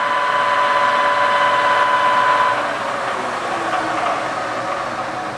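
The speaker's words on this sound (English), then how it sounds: "The rattling here is the chuck jaws because we don't have anything in it at the moment" A Kingston HJ-1700 17-inch by 67-inch lathe spins at about 1,350 RPM with its empty chuck jaws rattling, a loud, steady mechanical whir and hum with a faint tonal whine that drops away midway.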